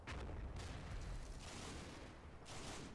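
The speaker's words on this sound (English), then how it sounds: "mortars dropping down there now" Mortar rounds exploding in the Combat Mission Final Blitzkrieg war game at Stavelot: a loud, continuous barrage of overlapping deep booms and crackling blasts rolls on for the whole stretch, with heavier bursts near the start and end and no voices.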